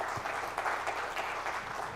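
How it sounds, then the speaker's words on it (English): A round of applause for the lecturer at a Silver Jubilee Foundation Day lecture, a moderate crowd clapping steadily with a soft, roomy sound and no talk over it. "A big round of applause."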